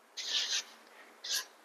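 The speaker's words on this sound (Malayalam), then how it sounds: "നമുക്ക് കൈകൊണ്ട് എല്ലാം കൂടി ചേർത്ത് ഇളക്കി നമുക്ക് മാവ് രൂപത്തിൽ കുഴച്ചെടുക്കാം." Nankhatai cookie dough is kneaded by hand, heard as two quiet, close rubbing strokes separated by a brief pause.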